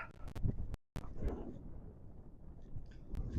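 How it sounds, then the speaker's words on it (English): Strong wind on a hillside buffets the microphone in heavy, uneven rumbling gusts, with brief sharp thumps and a momentary dropout; fairly faint overall, no voice. "Still windy, you know."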